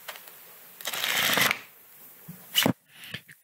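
The pages of a book are riffled quickly as a sound effect for eyes: a loud, close, fluttering burst lasting about a second, then a shorter snap of pages and a few faint flicks.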